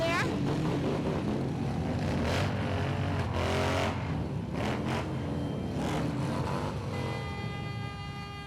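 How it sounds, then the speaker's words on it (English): Loud car exhausts rev and rumble at a children's holiday parade. Engine noise rises and falls under crowd chatter, with a vehicle roaring past at mid distance. "I think the exhaust pipes were heard across the river."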